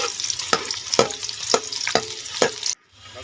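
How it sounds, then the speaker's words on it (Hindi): Two onions fry in hot oil with a steady sizzle, broken by about five evenly spaced scrapes of stirring, then cut off abruptly into near silence. "ऑयल ले लिया हमने, उसमें प्याज ऐड करेंगे, 2 प्याज नॉर्मल साइज़ के।"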